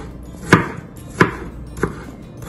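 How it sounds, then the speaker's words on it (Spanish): A knife slicing through half an onion on a board, four distinct chops spaced roughly evenly apart, close and clear over a quiet background, with no talking. "Yo tengo lo que viene siendo la mitad de una cebolla. Yo la voy a partir así."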